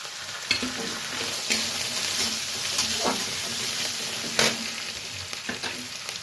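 Panch phoron five-spice, chopped ginger and chilli frying in hot oil for a cabbage puli pitha filling, a steady close sizzle broken by a few sharp stirring scrapes and clinks, with no talking.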